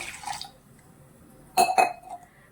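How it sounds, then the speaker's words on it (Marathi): A short splash of a glass of water poured into a pan for cooking amaranth greens, with a quick glassy clink, then near silence. "एक गिलास मी पाणी घालत आहे"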